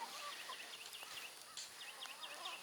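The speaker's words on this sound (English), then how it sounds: "here are the chickens." Chickens, among them a tailless rooster, give repeated short chirps and clucks at moderate volume over a steady, noisy background.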